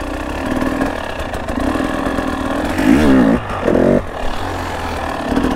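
A KTM 300 two-stroke dirt bike idles with a raspy clatter, then blips its throttle in two sharp revs during a wheelie attempt, the engine loud and close throughout with no talk.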